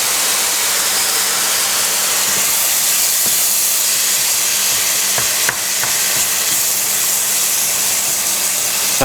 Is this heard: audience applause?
no